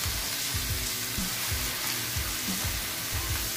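Thinly sliced beef sizzling in a hot pan with browned onion and garlic, a steady loud frying hiss with soft repeated scraping stir strokes, no voices.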